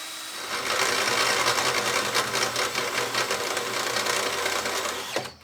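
Metal being ground down for forklift light mounts, a steady, loud, harsh whine that runs unbroken for about five seconds and then cuts off abruptly, with no talking.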